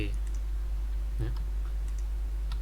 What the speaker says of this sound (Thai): ใช้ ลูกศรที่คีย์บอร์ด นะฮะ กดเลื่อนซ้ายเลื่อนขวาก็ได้นะครับ